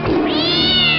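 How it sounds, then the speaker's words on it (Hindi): A cat lets out a single loud, close, drawn-out meow with a rising then sustained wail, heard alone without talk; no scratching is evident. "बिल्लियों छोड़ो, बंद करो नोचना।"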